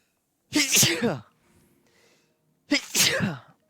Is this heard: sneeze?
yes